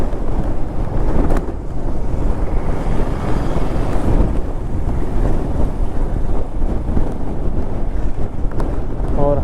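Strong sea wind blows on the shore at Dhanushkodi, roaring loudly and buffeting the microphone in heavy, continuous gusts, with the wash of waves mixed underneath and no voices.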